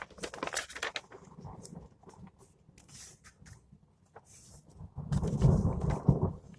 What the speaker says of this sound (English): It's raining outside if you couldn't tell.